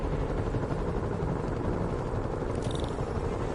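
A helicopter in a video game gives a steady, dense low rotor drone that holds evenly for a few seconds, with a brief faint high tone near the end.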